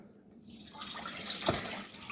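Tap water runs into a pot for homemade flaxseed hair gel, starting faintly and building into a steady splashing stream with a brief brighter gush midway.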